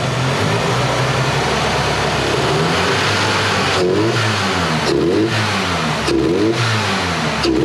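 A Ford Fox Body Mustang V8 runs loud and close, revving up repeatedly in short throttle blips over a steady rough idle, with no talking.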